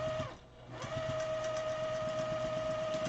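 A sewing machine stitches quilt pieces cut on a single bias, a steady close mechanical whir with a rapid rhythmic needle chatter after a brief pause at the start, running continuously with no voices.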